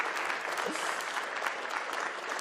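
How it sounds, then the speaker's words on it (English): Steady applause from a crowd at a live competition final in Milton Keynes, dense and even, filling the whole moment without a break or any voices standing out. "Another round of applause."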